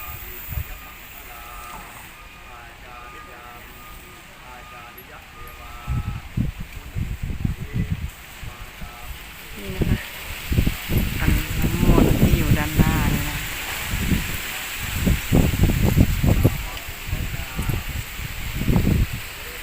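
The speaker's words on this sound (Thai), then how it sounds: "ตอนนี้แต่ว่าเสียงลมแรงมาก" Strong wind rushes through trees at Kham Chanod in Thailand as a steady, rising roar and rustle, growing louder partway through, with someone talking over it.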